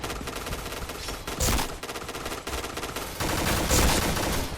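The Pink Dragon gun in the shooter game Point Blank fires rapid automatic bursts, a dense rattling stream of shots broken by short pauses.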